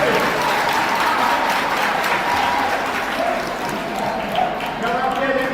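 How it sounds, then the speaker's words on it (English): A workshop audience of Grade 11 maths students gives a sustained round of applause, dense and steady from start to finish, with a few voices faintly audible underneath. "Give a nice round of applause"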